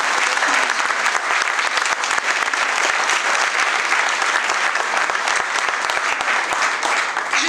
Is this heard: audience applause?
yes